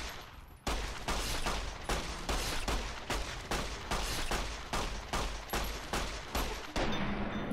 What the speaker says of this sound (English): Show them with your 9mm pistol.